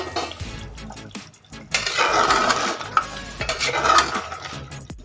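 Fried potatoes tipped into a pot of mutton curry, a few soft knocks followed by a wet, louder clattering and stirring in the pot, close by, without talk.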